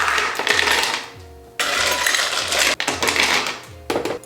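Two cups of ice tumbling into a container for a homemade milk and cookies Frappuccino, several bursts of rattling, clattering cubes with short gaps between them, close and fairly loud.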